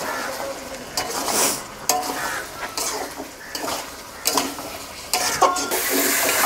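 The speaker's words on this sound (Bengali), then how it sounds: "ভালো করে সবজিটা কষিয়ে নিয়েছি" Vegetables sautéing in hot oil with dry spices and salt in a pan for a Bengali salty bogo fish curry, a steady close sizzle broken by repeated stirring scrapes and clatters, no talking.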